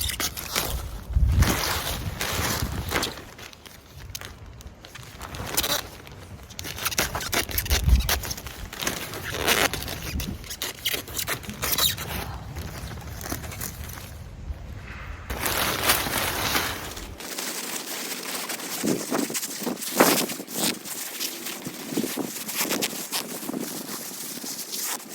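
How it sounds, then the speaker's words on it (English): Sticky plastic sheeting is handled and pulled taut over the hoops of a low garden tunnel on an allotment, giving a near, continuous crinkling and rustling with brief louder flaps, then thinner scattered crackles after the low rumble drops out. "Really sticky plastic, it doesn't want to pull tight."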